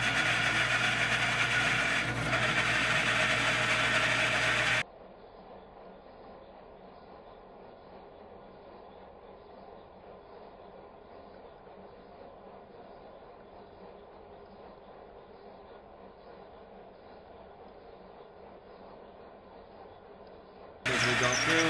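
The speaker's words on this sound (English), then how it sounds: "So let's put this in the drill press and see how it cuts." Drill press with a split point bit boring through 5/16 mild steel held in a vise, with a steady muffled motor hum and cutting sound that sits between louder stretches of speech at the start and end.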